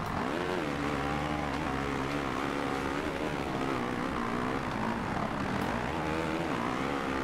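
A motocross bike in MXGP 2 buzzes in a high, steady engine whine whose pitch dips and recovers as the throttle comes off over jumps, close and continuous without speech.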